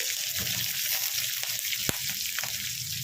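Three chopped medium onions drop into hot oil already seasoned with curry leaves and green chilies, giving a steady close sizzle with light stirring scrapes.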